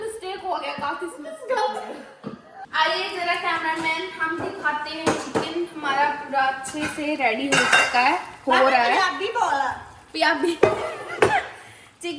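Chicken biryani mixture for Hyderabadi dum biryani is stirred in a pot, with spoon scrapes and clinks against the metal heard beneath continuous talking and a brief chuckle.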